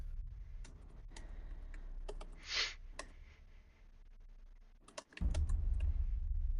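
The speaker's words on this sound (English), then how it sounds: "We can hear somebody typing." Typing on a computer keyboard, scattered sharp clicks and taps at an uneven pace, fairly faint over a low hum, with a short whooshing sound in the middle and a louder rumble near the end.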